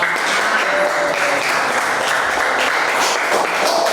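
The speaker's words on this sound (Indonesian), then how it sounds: "Oke, tepuk tangan untuk kelompok." Classroom applause for a student group after their presentation, a steady dense wash of clapping lasting throughout at even loudness, with no talk over it.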